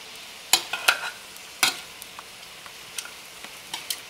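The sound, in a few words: cabbage being turned and frying in butter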